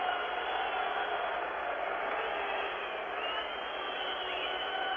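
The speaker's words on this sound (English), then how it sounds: "it's awfully hard to hear it with the crowd noise" A dense, continuous roar of a hockey arena crowd at a 1972 Team Canada versus USSR game, steady and distant-sounding with faint whistling mixed in.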